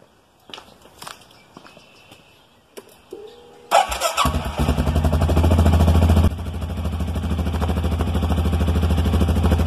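An ATV engine turns over and catches at about four seconds, then settles into a loud, steady idle close by that runs to the end. It comes after a few scattered handling knocks and clatters; no one speaks.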